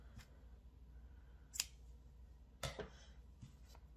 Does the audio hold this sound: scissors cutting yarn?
yes